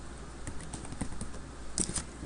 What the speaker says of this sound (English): then I type in Hurricane Katrina